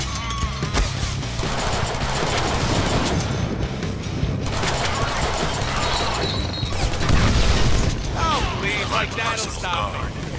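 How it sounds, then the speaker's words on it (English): Shotgun fire in the Deadpool video game, repeated heavy blasts and mechanical clatter within a busy, crashing fight, with talk over the top. "Shotguns rock!"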